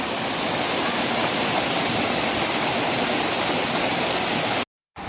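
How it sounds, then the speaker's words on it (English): A powerful waterfall, the Cascada in Iztaccihuatl Popocatepetl national park in Mexico, roars as a loud, steady broadband rush close by, cutting out briefly near the end. "Here's the top of the waterfall, the Cascada."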